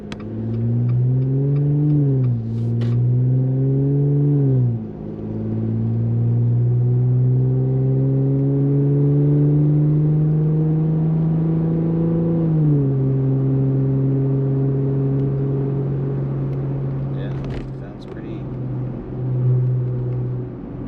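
Jeep JL two-door with an aFe Rock Basher 3-inch 409 stainless steel cat-back exhaust, a loud deep engine drone that rises through several revs, holds a long sustained high rev, then settles back, heard close with no talk.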